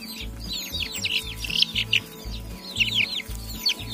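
Two-month-old chicks and hens cluck in short, rhythmic low bursts while high chirps and peeps rise over them, close by and continuous.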